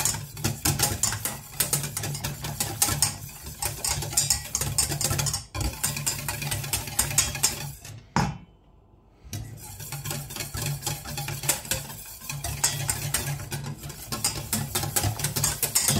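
Whisk beating pastry cream thickened with cornstarch in a pan, a fast continuous scraping rhythm up close, broken by a brief pause near the middle before resuming.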